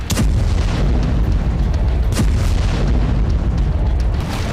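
Explosions and artillery fire in the Ukraine war form a loud, continuous rumble with sharp blasts and booms layered on top.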